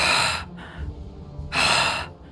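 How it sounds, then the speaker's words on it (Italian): Heavy, labored panting breaths from a narrator voicing a menacing figure in a tabletop fantasy role-play, two strong breathy bursts with a quieter rasp between, close and loud, with no words spoken. "Inizia a respirare affannosamente."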